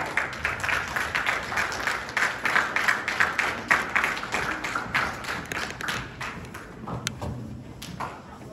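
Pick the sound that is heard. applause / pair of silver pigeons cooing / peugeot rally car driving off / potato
applause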